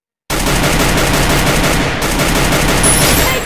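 Rapid automatic gunfire from a Free Fire ranked match rattles out loud and continuous after a short silent start, with only a momentary dip in the burst.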